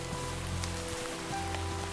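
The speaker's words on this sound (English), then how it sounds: "The rain is definitely not cool" Rain falling in Minecraft, a soft, steady hiss of drops pattering on surfaces with faint scattered taps, continuous and quiet throughout with no talking.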